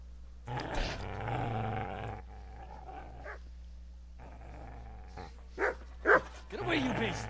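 Snarling dog growls in the medieval game Kingdom Come Deliverance, a sustained rough growl over the first seconds followed by a few sharp yelps and barks, loud and close with game background underneath.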